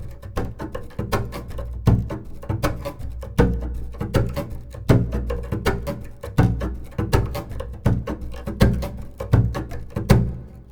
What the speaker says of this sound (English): So altogether, it sounds like this.